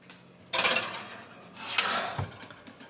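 Metal cake pans filled with chocolate cake batter are set into an oven, giving two clattering scrapes and knocks about a second apart, close and moderately loud, with no talking.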